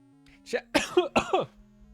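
A person with a cold coughs several times in quick succession, close and loud, with a short throat-clearing start and a low hum underneath.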